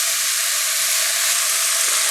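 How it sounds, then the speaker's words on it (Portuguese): Shimeji mushrooms fry in a pan with a steady, close sizzle and hiss that holds at an even level throughout, with no talking over it. "Aqui eu vou deixar fritando uns 3 a 5 minutos."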